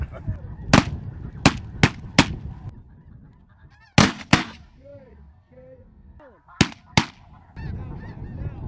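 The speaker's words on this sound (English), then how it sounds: "we had a lot of geese coming in here" Snow geese honking as they fly in over a hunting spread, nasal calls heard at mid distance, punctuated by several sharp, loud shotgun blasts in quick bursts.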